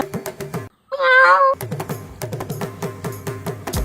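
A person imitates a cat's meow in one loud, drawn-out mewing call lasting about half a second, set between rapid bursts of conversational talk and light knocking.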